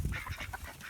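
Ducks and hens calling in a backyard coop, a quick burst of nasal honking quacks close by, loud and busy with no one talking.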